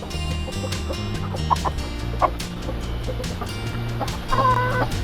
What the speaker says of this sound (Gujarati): કાળા પગવાળો કુકડો છે આ